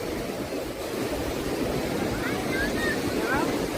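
Ocean waves rolling onto Arambol Beach in Goa, a steady broadband wash of surf with wind buffeting the microphone and faint distant voices of crowds at the shore.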